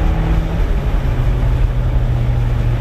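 A car's engine is held at full throttle in third gear, accelerating slowly, giving a loud, steady, low-pitched drone throughout with no voices.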